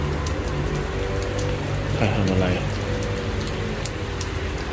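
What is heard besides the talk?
rain falling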